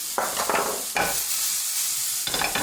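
Shallots and parsley frying in a pan, with a steady broadband sizzle running throughout and short bursts of stirring and scraping, close and fairly loud, with no voices.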